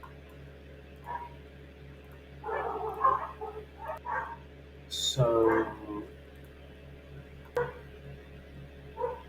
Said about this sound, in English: excuse the dogs barking in the background.